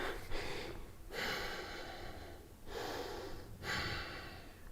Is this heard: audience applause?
no